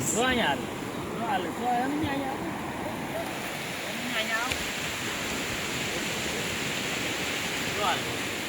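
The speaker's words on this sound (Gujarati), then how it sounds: "દરિયો તો આજે બહુ જ તે મસ્ત છે" Sea waves wash continuously onto the shore in a steady broad rush, with voices speaking over it early on.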